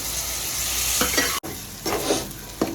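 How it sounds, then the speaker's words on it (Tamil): Water splashed onto sautéed onions in an aluminium pan sets off a steady sizzle, with a few scraping stirs of a spoon cutting through the close, continuous frying hiss. "லைட்டாக கொஞ்சமாக தண்ணி ஊற்றுறேன்"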